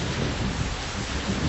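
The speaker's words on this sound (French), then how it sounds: "du vent qui hurlait et de la pluie qui tombait en trombe" A thunderstorm with howling wind and pouring rain, a steady, dense roar of downpour and low rumbling that holds loud and unbroken throughout, with no voices.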